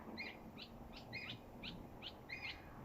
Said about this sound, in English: There's a lot of birds around right now.